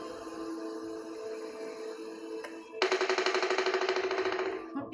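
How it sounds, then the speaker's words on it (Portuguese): A fast, steady rattling tap, like a woodpecker drumming on wood, kicks in partway through over a low background hum and carries on for about two seconds. "Pica-pau?"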